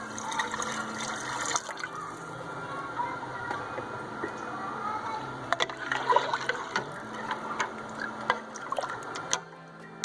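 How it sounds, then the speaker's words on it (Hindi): Four large glasses of water splash and pour into a metal cooking pot for several seconds while making mutton paya, with clinks and irregular sloshing, close by, stopping near the end. "बड़े साइज़ के 4 ग्लास पानी इसमें ऐड करेंगे हम।"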